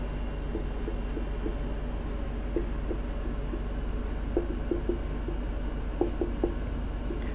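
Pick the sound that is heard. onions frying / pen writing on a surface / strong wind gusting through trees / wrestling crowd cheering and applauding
pen writing on a surface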